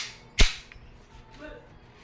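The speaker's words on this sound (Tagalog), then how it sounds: "Okay, firing." A single sharp shot from a WE M-92 silver full-metal gas airsoft pistol, close and loud, followed by a brief quiet tail with faint background sound.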